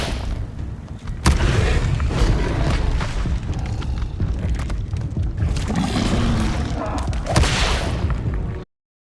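An Incendio fire spell is cast in the video game Hogwarts Legacy, with a sharp onset followed by a loud, sustained whooshing roar of flame and rumbling bursts that swell again near the end before cutting off abruptly.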